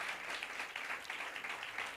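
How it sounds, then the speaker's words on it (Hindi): A church congregation claps steadily for about two seconds during a Christian sermon. The applause is dense and continuous at moderate volume, with no speech over it. "यीशु मसीह के लिए जरा तालियां बजाएं"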